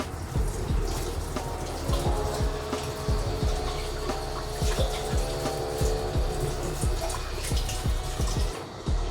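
Running tap water splashes over a plant pot held upside down as it is rinsed, a steady close wash broken by irregular drips and knocks.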